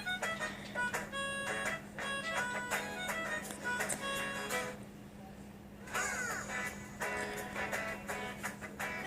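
A pet bird gives repeated bright, harmonic calls in quick bursts across the whole stretch, fairly close and loud, over a steady low background hum indoors.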